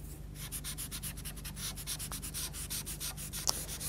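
Derwent pastel pencil blended across paper, giving soft, close rhythmic rubbing strokes that repeat steadily, with a faint tap or two, quiet and without talk.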